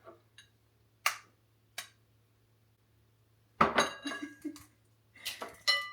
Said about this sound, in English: It works better, I think, when I crack it on the table